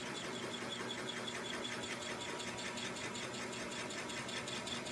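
A spoon bit drills into briar wood as the quill advances, producing a faint, steady, even whirring hum without pauses.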